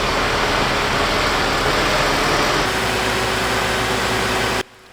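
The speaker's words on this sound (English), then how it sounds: "Here is the mixer just pulling in the top right of the picture now." Concrete mixer truck pulling in at a residential trench pour, a loud steady diesel engine rumble throughout that cuts off abruptly near the end.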